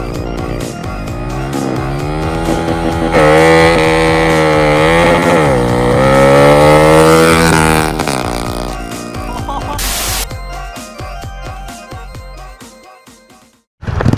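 Honda Wave motorcycle with a 125cc engine revving hard, a loud, close, steady high-pitched engine whine rising and falling over about ten seconds, then a sharp burst and a quieter, choppy tail.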